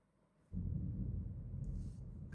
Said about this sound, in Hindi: गरज रहे हैं जोर जोर से